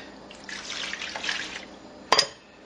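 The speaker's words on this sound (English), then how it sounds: "We're going to add in our 2 cups of milk." Milk pouring into a mixing bowl for waffle batter, a soft liquid splashing stream for about a second and a half, then a short louder clink near the end, close and alone.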